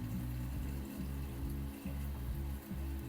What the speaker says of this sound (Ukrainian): Набираємо водичку, зараз подивимось, чи вона там не протікає